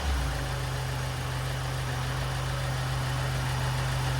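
A 2017 Ford Transit Custom with a 2.0 EcoBlue diesel engine runs steadily after an engine repair, giving a close, even, low hum that holds without a clear rise in pitch.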